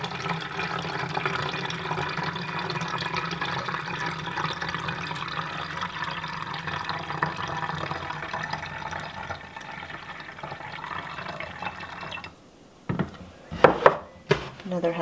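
Apple cider vinegar and Skin So Soft poured into a container for homemade fly spray, a steady continuous liquid pour that stops near the end, followed by a few sharp knocks and clatters of the container.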